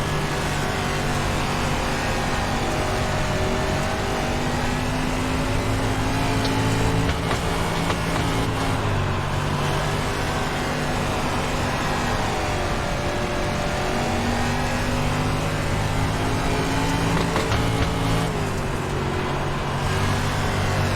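A dirt race car engine in the iRacing video game, a continuous loud droning roar that rises and falls with throttle changes through corners, steady for about twenty seconds with no voices.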